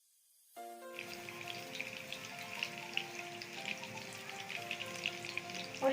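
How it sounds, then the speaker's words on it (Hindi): Beef gola kababs drop into hot oil for shallow frying: a sudden burst of sizzling after a quiet start, then steady spitting crackle with popping peaks, alongside a faint electronic tone that steps down and fades. "अब मैं कबाब जो है शैलो फ्राई करूंगी"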